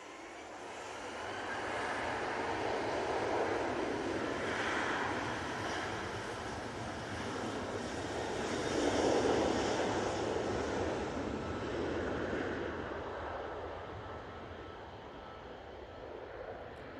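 A Ryanair airliner at Manchester Airport gives off a broad, steady jet roar that swells and eases over many seconds at moderate distance, with no voices over it.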